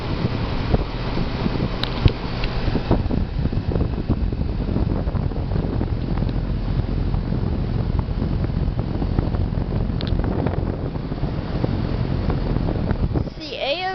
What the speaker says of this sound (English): Alright, and it's on. It's got A.O. Smith fan motor.